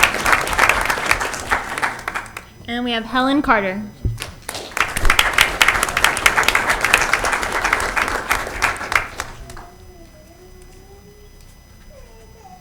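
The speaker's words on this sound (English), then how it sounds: "let's give her a round of applause as well" Applause from a school board meeting audience, broad crackling clapping across most of the span, with a voice announcing names over it and a brief break partway through before it fades into quiet talk.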